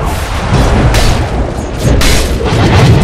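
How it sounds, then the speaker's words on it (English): Dota 2 match combat sounds as Dire's middle tower comes under attack: continuous loud booming impacts and blasts layered over dense game noise, with bursts swelling around the midpoint and end. "Dire's middle tower is under attack."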